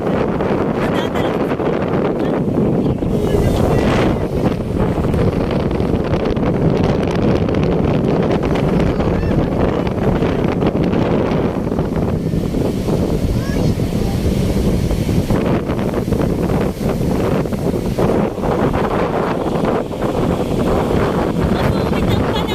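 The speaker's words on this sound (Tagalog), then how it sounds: "Masungit ang panahon. Ang laki ng alon, nakakatakot." Strong wind buffets the microphone at sea in rainy weather while big waves surge, a loud continuous roar and rush with splashing swells throughout.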